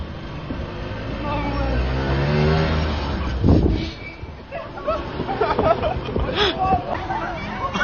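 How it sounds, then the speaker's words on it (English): A small engine-powered Fisher-Price toy car drives close by with a steady buzzing motor drone, then a bump and rattling clatter as people talk over it. "It kind of looks like he put an engine on one of those Fisher Price cars."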